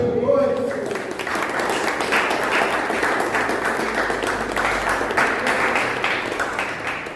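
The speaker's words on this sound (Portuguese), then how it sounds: "Uma salva de palmas." Steady, dense applause from a large church audience fills the room, sustained throughout at an even level with a murmur of voices underneath.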